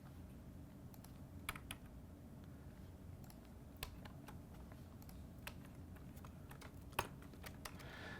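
Typing on a computer keyboard during a Linux shell session, sparse soft key clicks with a few sharper taps scattered over a steady low hum, fairly quiet and close with no speech.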